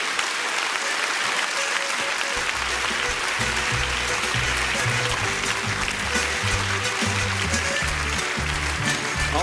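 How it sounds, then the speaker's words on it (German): Sustained applause from a studio audience at the grand finale of a Swiss rural women's cooking competition, dense and steady throughout, with music playing underneath. "das ist dein Applaus"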